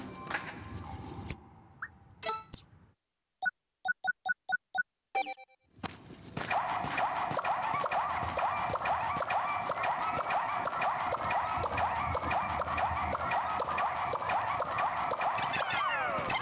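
The Ancient Sirehound, a dog-like creature in the video game Pikmin 4, lets out a few short, clipped barking calls in quick bursts. Then a loud, sustained, noisy din sets in and continues to the end.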